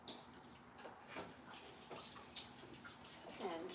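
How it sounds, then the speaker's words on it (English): Running tap water splashes over hands being rinsed in a kitchen sink, a soft continuous wash with small splashes, faint and close. "Rinse our hands"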